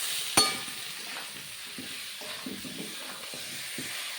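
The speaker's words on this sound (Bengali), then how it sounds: "হালকা ভেজে নেব" Pieces of rohu fish fry in a pan with salt and turmeric, giving a soft continuous sizzle, with a sharp metallic clink near the start and light stirring sounds after.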